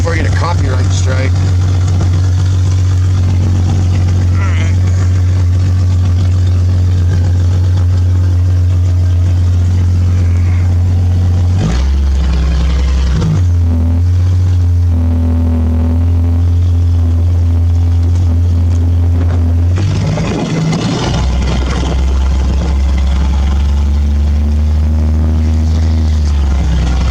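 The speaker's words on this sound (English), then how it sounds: "You hear the exhaust going." A Jeep XJ exhaust drones steadily while driving, deep and continuous, with a couple of pitch shifts as it changes speed. A voice talks over it for much of the time.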